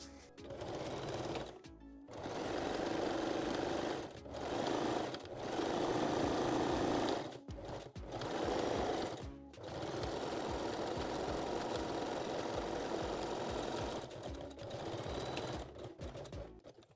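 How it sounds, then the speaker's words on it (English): A sewing machine stitching the seam of a foam bra cup for a bralette runs in several steady bursts, broken by short pauses and a couple of quick stops, with no talk. "Now we can sew the second cup seam exactly the same way as the first one."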